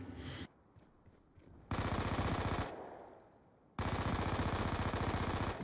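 Automatic weapons fire in the Black Ops 2 video game, with two long sustained bursts of rapid shots and a shorter opening burst, split by quieter stretches of ambient game noise.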